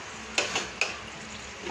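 Pork frying in a pan with a steady sizzle, broken by a few sharp scrapes of stirring; close and fairly loud, no talking.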